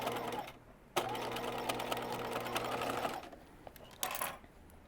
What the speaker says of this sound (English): start stitching as close as you can to the match point. And then back stitch.